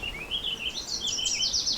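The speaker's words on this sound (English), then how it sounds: "And some cedar waxwings up above me too." High, thin cedar waxwing calls from overhead in a quick series of sweeping whistles, fairly close and steady, with faint low background noise.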